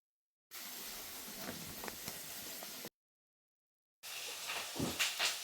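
Washed dried fish (karuvadu) hitting a hot pan for a spicy karuvadu thokku, giving a steady close hiss that cuts off abruptly, then a second, louder sizzle that swells with crackling pops.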